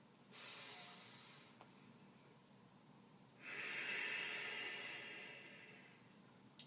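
Two long, slow breaths during a shoulder and chest stretch, an airy inhale followed by a louder, longer exhale, close and quiet with no talk.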